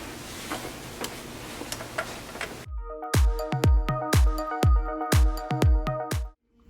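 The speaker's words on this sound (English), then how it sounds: "So let's head on over to the sewing machine." A sewing machine stitching a paper piecing quilt pattern: after a stretch of busy background noise, a series of about eight sharp, evenly spaced mechanical clicks rings out clearly, then stops abruptly.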